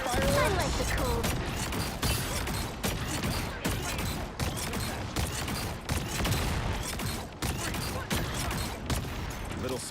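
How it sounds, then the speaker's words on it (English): Tiny metal creatures skittering in the Helldivers video game: a continuous, busy clatter of quick mechanical clicks and creaks filling the whole stretch at moderate level, with dense gunfire-like bursts mixed in. "Tiny metal creatures skittering"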